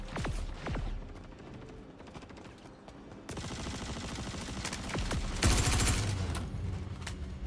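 A ship comes under fire in a space game: loud bursts of rapid automatic gunfire alternate with sustained hammering volleys, and a heavy crashing blast sounds partway through.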